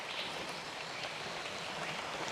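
A light drizzle falls like a fine misty spray over wet moringa leaves, making a steady, even patter and hiss that stays unbroken throughout.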